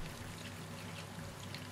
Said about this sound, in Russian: Заливаем кокосовый грунт горячей водой.